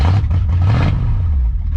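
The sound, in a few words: muscle car engine running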